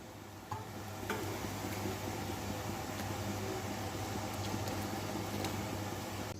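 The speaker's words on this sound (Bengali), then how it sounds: "ডালটা ভেজে বসিয়ে দিলাম একটু শুকনো লঙ্কা আর জিরে দিয়ে।" Lentils fry with dried red chilli and cumin, making a faint steady sizzle broken by light scraping and a few sharp taps of stirring, with no voices.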